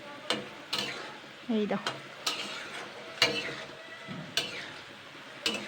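White boondi stirred through sugar syrup in a pan, with sharp periodic scrapes and clinks over a soft bubbling sizzle, and a brief voice speaking once.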